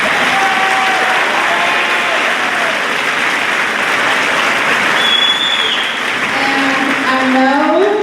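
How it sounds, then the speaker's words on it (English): A school audience at the Plymouth High School spring awards assembly claps steadily for about eight seconds, a dense, even applause that fills a large room. "Can I please give them a round of applause?"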